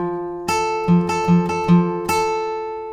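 Riff on electric guitar, picked by alternating the fifth and second strings. About six clean, ringing plucked notes sound alone in a quick, even pattern over three seconds.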